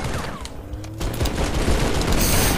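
Rapid bursts of automatic gunfire and explosive booms fill a Halo 3 match, loud and continuous with dense overlapping shots.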